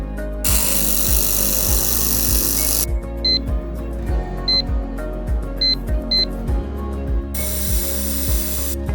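An air-cooled SFX laser welding machine at work on galvanized square steel: bursts of loud hissing start and stop, with a steady mechanical hum, regular low knocks and brief high beeps between bursts.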